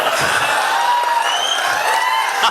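A crowd at a Hariom Pawar poetry recital claps and cheers, a loud continuous wash of hands with raised voices running through the whole moment.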